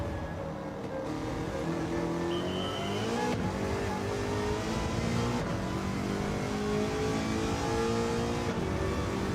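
An American muscle car in a racing game revs hard and climbs through the gears past the redline, the loud close engine note rising in pitch with sharp shift breaks.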